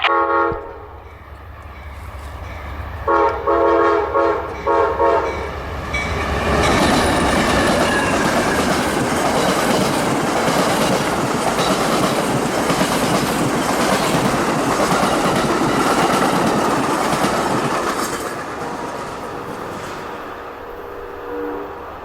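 Amtrak 91 southbound passenger train to Tampa approaching and rolling past at a siding: a horn blast, then a loud, sustained roar of wheels with clickety-clack and some squeal, fading near the end.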